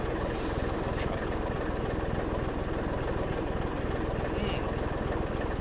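A truck engine with straight pipe exhaust in the Farm Sim 25 video game, a steady loud low rumble held at an even level throughout.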